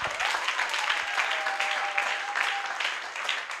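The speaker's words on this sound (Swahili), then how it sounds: "tumpe Yesu makofi" A church congregation claps for a few seconds, dense and steady, with a faint voice mixed in.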